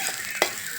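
Onion frying in a pan over a wood-fired chulha, a soft steady sizzle with one brief louder clink or stir near the middle, close and fairly quiet.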